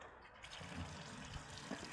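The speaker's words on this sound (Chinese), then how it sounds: "然后我就去拿这个水把它冲一下" Water spraying to rinse a motorcycle chain after cleaning with a water-soluble degreaser, a steady soft rushing splash heard close by at low volume for the whole moment.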